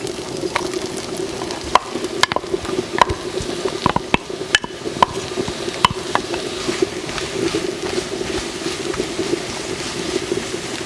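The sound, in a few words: mushrooms cooking in melted butter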